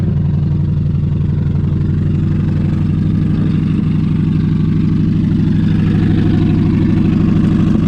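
A car engine with a wide-open single-exhaust muffler idles steadily and loudly up close, a continuous low rumbling drone with an even, fast pulse.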